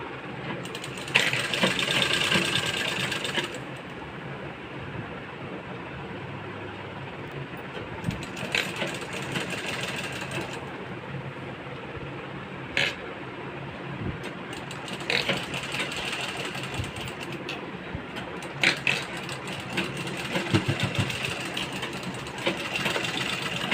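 A sewing machine stitches a blouse waistline belt, with bursts of rapid mechanical whirring and clatter separated by brief pauses and clicks, close and fairly loud.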